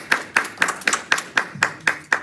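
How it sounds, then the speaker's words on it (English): Slow, evenly spaced handclaps, about nine sharp claps in two seconds, close and fairly loud, as a small audience gives a speaker another round of applause at a civic meeting. "So give him another round of applause,"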